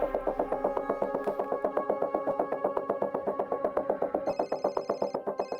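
A telephone bell rings in a fast, steady repeating trill, moderately loud and close, with no talk over it.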